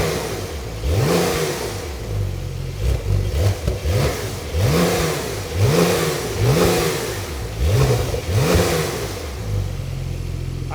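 Porsche 992 Brabus Rocket with a 900 HP turbocharged engine, heard from outside, revs hard in a series of about six loud, rising-and-falling blips, settling back to a steady idle between and after them.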